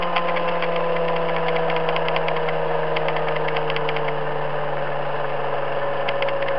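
A pulse motor generator freewheels at about 2,000 RPM with a steady, loud mechanical drone and a fine regular ticking pulse running throughout.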